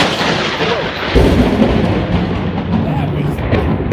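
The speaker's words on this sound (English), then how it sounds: "we're in the middle of a really crazy thunderstorm" Thunder from a nearby lightning strike in a heavy thunderstorm: a loud, broad rumbling roar that swells sharply just after the first second and keeps rolling to the end, close and dense, with no clear talk.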